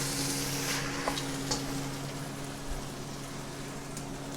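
Beef stew of osso buco, brisket cubes and bones bubbles and sizzles steadily in a pot, a soft continuous crackle with faint stirring scrapes, quiet and close with no talking.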